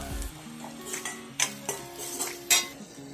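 A spoon stirs boiled potatoes into turmeric and spices in a pan for potato bhaji, with soft scraping and several light metallic taps against the pan over a faint sizzle, no talking.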